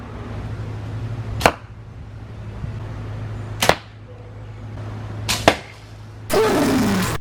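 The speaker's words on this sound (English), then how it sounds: "They're shooting arrows" Arrows loosed at a backyard target, four sharp thwacks spaced a couple of seconds apart over a low steady hum, the last one followed by a burst of rustling noise.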